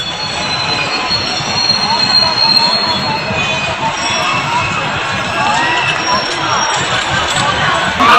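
A freight train rolls past close by near Buxar railway station in Bihar, India, its wheels squealing and clattering in a steady, loud roar that holds throughout, with faint crowd noise mixed in.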